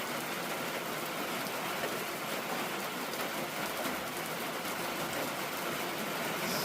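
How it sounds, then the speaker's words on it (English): Heavy rain pours down on a homestead, a dense, constant hiss of drops on surfaces that holds loud and even throughout, with no talk over it. "It's raining."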